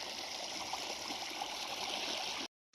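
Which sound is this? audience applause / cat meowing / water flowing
water flowing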